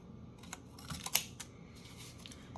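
Scissors snipping through paper scraps for ephemera crafting, a few soft, close cuts with one sharper snip in the middle against quiet room tone.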